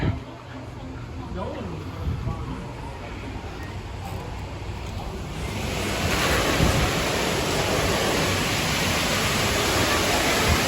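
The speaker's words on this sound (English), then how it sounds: "So now we're gonna go into the water park." Constant broadband rush of splashing water fills an indoor water park at a hotel in Frankenmuth, Michigan, growing louder and fuller midway, with faint voices under the roar.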